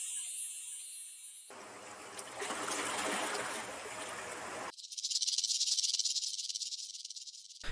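A rattlesnake rattle sound effect in a music remix transition, a dry, buzzing rattle appearing between shifting layers of hiss and watery noise, moderately loud in the mix.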